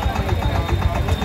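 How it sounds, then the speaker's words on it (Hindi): A Massey Ferguson 5118 4x4 tractor with a single-cylinder 18 HP engine runs nearby, a loud low chugging with steady rapid pulses and mechanical vibration. "मेस्सी फर्गुसन का 4x4 5118 ट्रैक्टर आ गया है, छोटे वाला, बहुत जबरदस्त"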